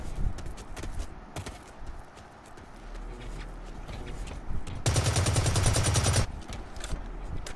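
Rapid gunfire in the online shooter Blacklight Retribution, a dense burst of automatic shots lasting over a second amid steady game noise and scattered clicks.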